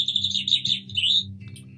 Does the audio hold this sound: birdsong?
yes